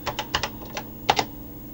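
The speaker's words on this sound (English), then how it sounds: "there's the break key on the keyboard, resets it" Keys pressed on a BBC Micro keyboard, including the break key, as a short run of crisp close clicks in two loose clusters with a louder pair of presses near the end, no talk.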